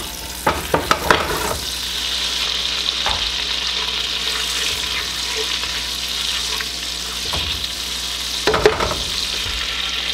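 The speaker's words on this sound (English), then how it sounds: "I'm just gonna melt this butter." Butter melts in a hot pan with a constant, even sizzle, while a few sharp clinks and knocks from the pan come near the start and again near the end; no voices.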